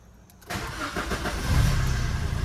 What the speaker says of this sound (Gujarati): એન્જિનની વાત કરીએ તો સ્ટાર્ટ કરીને તમને બતાવું તો સ્ટાર્ટ કરીશું આપણે